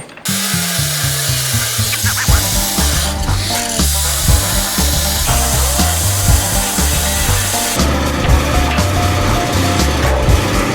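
A power tool cuts through metal on a fender brace for a 1948 GMC pickup, a loud, continuous grinding whine with shifting pitch that runs without pause for the whole stretch.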